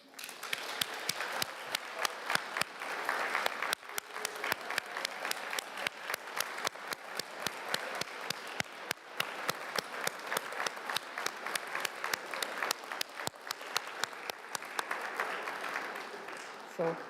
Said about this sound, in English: And you now may clap